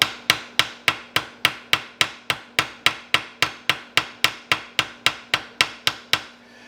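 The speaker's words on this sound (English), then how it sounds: "I take the ball portion of my peen and just start gently tapping it and peening it over" Ball-peen hammer gently tapping and peening over a metal part of a century-old Hunter Arms Fulton shotgun resting on a flat, about twenty crisp, evenly spaced ringing taps close by with no voices.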